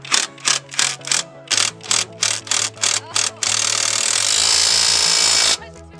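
Bursts from an impact wrench or power tool tightening the top mount on a 1998 Honda Civic during a lowering-sleeve suspension install, about ten short rattling pulses followed by one sustained run, loud and close.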